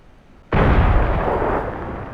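A sudden loud explosion in the video game Squad, with the Galactic Contention mod, as a hub is blown up, erupts after a quiet moment, then a long rumbling roar that holds steady and slowly fades.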